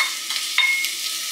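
Dried pollack shreds stir-fried in sesame oil give a steady close sizzle, with a few soft scrapes of stirring rising briefly above the hiss.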